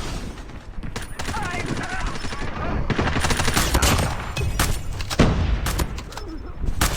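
KRM shotgun fire in the mobile game Call of Duty Mobile comes as loud, dense bursts of gunshots amid battle noise, close and continuous, with a voice talking over it.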